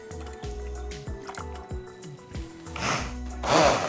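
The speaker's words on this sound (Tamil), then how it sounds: "இப்போ பால் ஊற்றுறோம்." Milk poured into carrot kheer in a kitchen pan, a liquid stream splashing and gurgling up close, growing fuller and louder toward the end after a run of soft drips and squishes.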